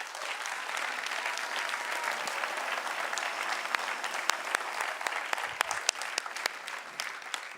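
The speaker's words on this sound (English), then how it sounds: "One more applause for this car and the team." A crowd at the 2023 Top Dutch Solar Racing car reveal applauds the new solar race car and its team, with sustained clapping that includes distinct, close individual claps standing out toward the end.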